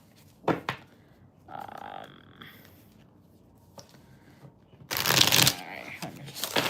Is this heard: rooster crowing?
no